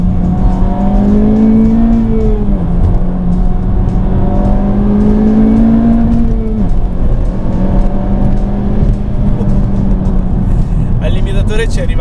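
A 2018 Honda Civic Type-R in its sportiest mode revs hard toward the limiter, engine note rising and falling in long sweeps, loud and close, with someone talking over it throughout.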